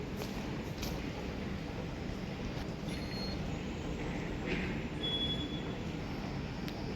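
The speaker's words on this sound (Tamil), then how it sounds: "Typical Sydney metro station." Low rumbling ambience fills a Sydney metro station as a train runs nearby, with a steady roar and faint metallic squeals and clicks.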